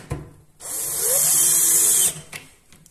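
Power drill driving screws, with no pilot holes, into wood while fixing a beehive in central Portugal; one sustained whirring run of about one and a half seconds, close and loud, with brief clicks before and after.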